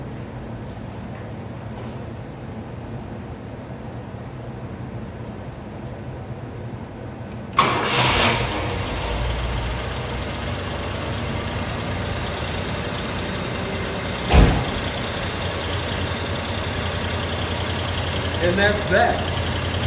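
A Cadillac that sat for 25 years and is being restored to factory condition cranks and catches with a sudden loud start, then settles into a quiet, steady idle. Someone talks briefly over it.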